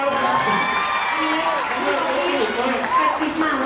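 Audience at a Thai film cast launch event for the period drama Bupphesannivas 2 applauding and cheering as a crowd, a continuous wash of clapping under a presenter's amplified voice.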